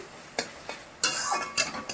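Spice masala frying with a pinch of sugar in a pan for a Bengali chital fish jhal, a soft sizzle broken by several sharp spoon scrapes and taps against the pan, close by and without talk.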